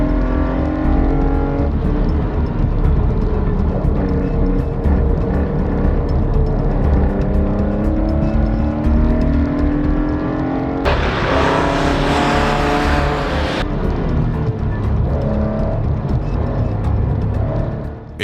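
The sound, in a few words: V8 race cars and Porsche 911 racing on track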